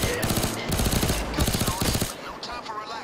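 SMG gunfire in the video game Payday 2, with two fast rattling bursts of rapid shots, loud and close, followed by a quieter tail of game sounds.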